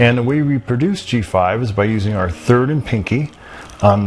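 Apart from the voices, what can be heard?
No everyday noise stands out behind the speech.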